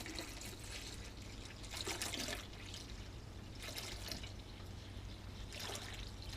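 Chilled water from the freezer is poured into hot brewing wort to cool it, giving a faint steady trickle and splash with a few louder gushing bursts over low background hum.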